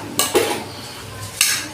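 Mutton masala being fried and stirred in a pot for a village-style Assamese butter mutton gravy, with a few distinct clinks and scrapes of a utensil against the pot over a low background, no talking.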